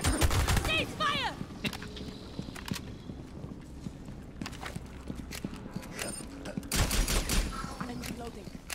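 Rapid gunfire bursts and scattered shots in the shooter game Rainbow Six Extraction, loud and dense at the start and again near the end, with mechanical clatter and background game effects between them.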